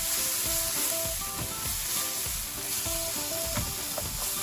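Ginger garlic paste sizzles steadily in a hot pan for masala, with a continuous bright crackle broken by occasional louder pops and faint stirring scrapes, close and without voices.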